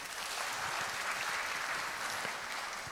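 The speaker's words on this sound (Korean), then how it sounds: "소유자 여러분 박수 부탁드립니다" An audience of property owners at an apartment redevelopment briefing claps in steady, sustained applause that fills the room from start to finish.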